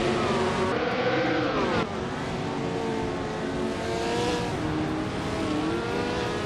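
Classic race cars, led by a 1966 McLaren M10A, pull away from the start at Cadwell Park, several engines roaring loudly together in a continuous dense blare with rising revs and no voices.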